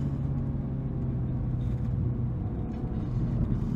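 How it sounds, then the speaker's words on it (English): The exhaust of a Mini John Cooper Works F56 rumbles steadily as the car accelerates in third gear, a low, continuous engine drone heard from inside the cabin with no talking. "You can hear the exhaust going a bit."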